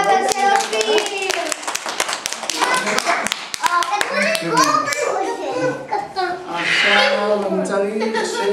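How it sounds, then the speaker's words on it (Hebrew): Applause for a child's father at a children's magic show: rapid, loud clapping from many small hands, mixed with excited children's chatter and voices throughout. "מחיאות כפיים לאבא של אופיר."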